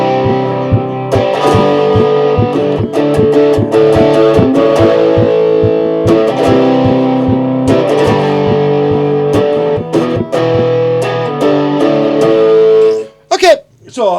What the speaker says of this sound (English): A wee bit of drive, sort of subtle drive.